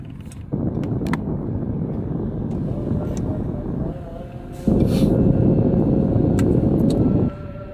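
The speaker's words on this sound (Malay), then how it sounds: "Angin kuat lagi ke?" Strong wind buffets a microphone outdoors, making a loud, steady low roar that drops slightly midway and then surges louder before easing near the end, with no voices heard.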